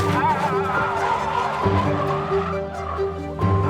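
A drift car at a competition event nearly spins out, its tires squealing in long sliding bursts over a loud revving engine, with a crowd and a voice talking underneath.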